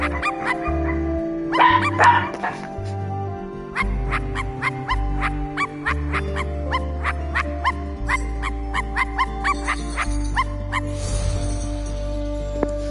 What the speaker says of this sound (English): I was having a grand old time making my dogs bark